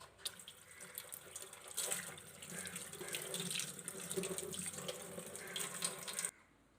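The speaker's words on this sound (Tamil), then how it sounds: "இந்த இட்லியை பாத்திரத்தை திருப்பிக்கிட்டு நம்ம தண்ணி ஊற்றிக்கலாம்." Water pours steadily over an upturned idli steamer vessel, a continuous splashing rush that runs for about six seconds, close and moderately loud, then stops abruptly.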